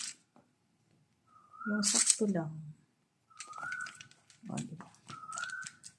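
Bird calls out noisily in short bursts of high chirping, heard around a person speaking nearby in a kitchen.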